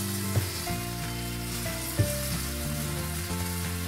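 Bangda (mackerel) fish fries in a pan over lowered heat. A steady sizzle sits under a low mechanical hum, with two sharp knocks near the start and middle, and no one speaks.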